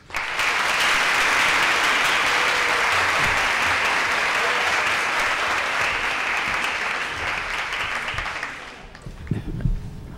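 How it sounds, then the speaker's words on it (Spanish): An audience at a university ethics lecture breaks into loud, dense, sustained applause that holds steady for about eight seconds, then fades out, leaving faint room noise and a few low thumps. "Un fuerte aplauso."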